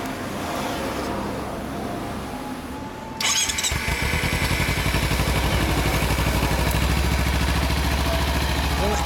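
A 2014 Kawasaki Z250 motorcycle engine cranks and catches about three seconds in, then settles into a loud, steady idle close by after a quieter stretch of background noise.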